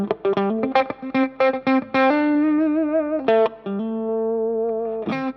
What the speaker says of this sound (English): It's almost like a wah-wah combined with a swell.